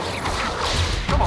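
An Incendio fire spell bursts out in Hogwarts Legacy, a loud, brief whooshing flare with crackling edges that swells again at the end.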